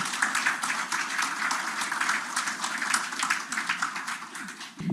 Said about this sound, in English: please join me in giving a round of applause to Minister Sophalleth